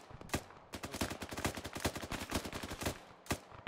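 Sustained automatic gunfire in Arma 3, a long dense rattle of rapid shots with a few heavier single cracks at the start and end, loud and close, with no voices.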